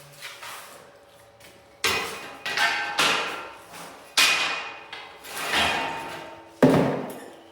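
Nails are hammered into a door frame during a door hanging job: several sharp, close blows arrive in bursts with short ringing decays and brief gaps between strikes.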